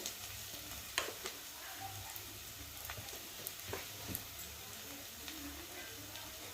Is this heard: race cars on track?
no